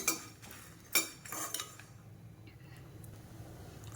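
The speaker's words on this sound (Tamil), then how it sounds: "இதையும் சேர்த்து இப்போ நல்லா வறுத்துக்கணும்." Coriander seeds and three dried red chillies dry-roast in a pan, heard as a few quiet scrapes and clinks of a stirring utensil against metal, fairly faint and close, with no voices.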